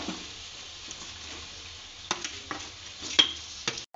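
Potatoes tipped into a pan of cinnamon, clove and pepper spice for a Gujarati sandwich curry, followed by a soft, steady sizzle with a few sharp scraping stirs and clinks near the end.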